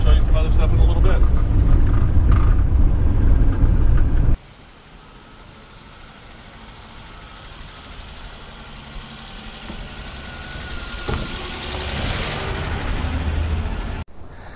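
A 1960 Ford Ranchero's engine rumbles loudly at first, then drops to a steady low drone that slowly builds as the car drives along.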